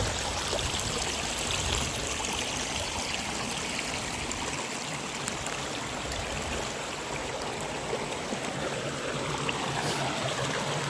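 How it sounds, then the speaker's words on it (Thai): Garden stream flowing freely after being cleared of leaves and dry branches, with a steady, close trickling and rushing of water that continues without a break and is heard alone. "หลังจากที่มาเก็บกวาดแล้วก็จะน้ำไหลสะดวก"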